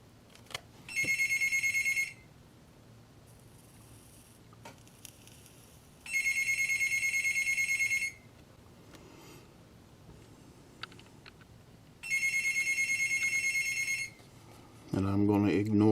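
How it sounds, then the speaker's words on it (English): A telephone rings in three separate two-second bursts spaced evenly apart, loud and clear above a quiet workbench setting where a Digitrax DCC decoder is being soldered into a Western Maryland F7A model locomotive. "And I'm going to ignore the phone."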